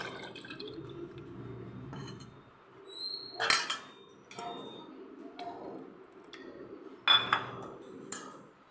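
Tamarind pulp being mixed by hand in a metal vessel, with wet squelching, faint drips and occasional sharp clinks of the pot, close and quiet with no voices.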